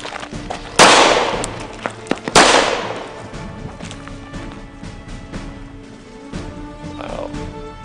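Two loud, sharp gunshots ring out about a second and a half apart during a film shoot for a mountain-troops war movie, each followed by a fading echo, then quiet ambience.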